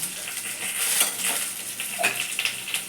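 Water splashing into a hot pan of pomfret fish curry, a steady close sizzle and bubbling with faint scraping of a utensil, no talking.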